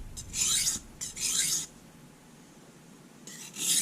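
Knife edge drawn across a sharpening stone to smooth and lighten the burr on a new knife, three distinct gritty scraping strokes close up, separated by quiet gaps.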